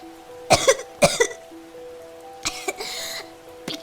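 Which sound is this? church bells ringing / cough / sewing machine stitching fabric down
cough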